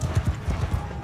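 Horse hooves galloping across a battlefield in the video game Mount & Blade II Bannerlord, a fast, rhythmic run of thudding beats that is close and loud, with game battle noise behind it.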